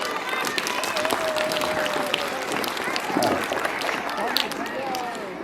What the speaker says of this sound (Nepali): सबैको लागि एकचोटि जोडले ताली बजाइदिनु होला